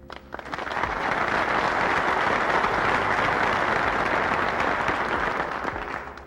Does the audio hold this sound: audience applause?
yes